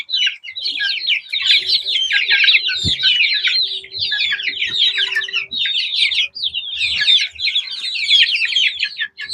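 Some thirty chicks cluck and cheep densely and without a break while feeding, loud and close throughout, with a few faint bumps and knocks beneath the birds.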